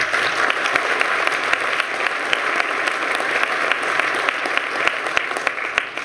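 Sustained applause from a conference audience at a tech keynote event, dense steady clapping filling the room for several seconds without a break.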